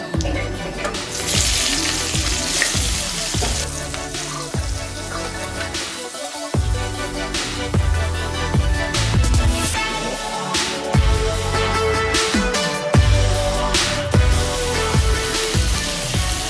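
Chopped onion sizzles and fries in hot oil with whole cumin seeds, a steady, close crackling hiss running continuously throughout with occasional louder bursts.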